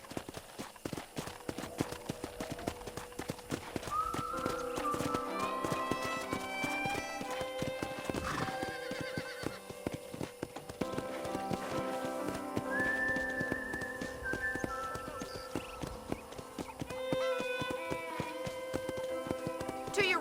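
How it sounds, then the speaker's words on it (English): Rhythmic clip-clop of horse hooves runs throughout, with a couple of high whinnies and whistling tones, from the video game Red Dead Redemption, mixed with music. "I picked out a fine horse for you. Giddy up!"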